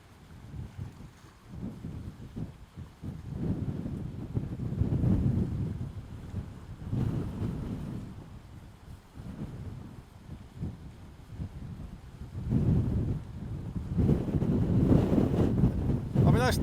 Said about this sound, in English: All of a sudden it'll be just flat calm, and then you get a massive gust of wind come through.